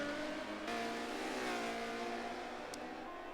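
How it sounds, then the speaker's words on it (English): A Bugatti engine revs in the Forza racing game, a steady, smooth drone with a slowly shifting pitch, rather faint and heard alone. "that engine sounds nice"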